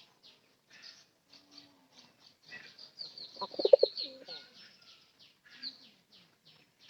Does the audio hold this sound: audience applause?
no